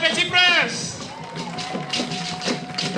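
Crowd applause and cheering at a ceremony presenting the Nguon cloth, greeting a parade of young princes, with broadband clapping throughout and a voice speaking over it.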